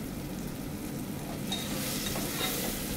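Salted tomatoes sizzling and frying in a pan while a spoon stirs them steadily, a continuous close hiss with soft scraping and no voices.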